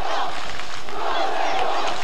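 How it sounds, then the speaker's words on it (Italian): A home crowd roars and chants for the team during a 1988 Italian basketball playoff final game, a dense, continuous wall of cheering voices filling the arena. "Sentite che tifo per la Mainterm."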